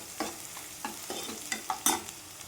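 Onion sautéing with ginger-garlic paste in oil in a pan, a soft sizzle under repeated scraping stir strokes, close and moderately loud, with no talking.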